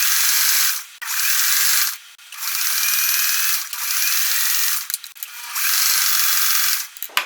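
A sewing machine stitches zigzags on a raw-edge crazy quilt block, running in loud, close bursts of a rapid whirring chatter separated by brief pauses.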